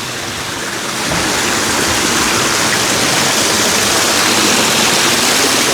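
An artificial waterfall water feature at a villa in Jaffna, a loud, steady rush of falling water that swells after the first second and holds without pause, no voices.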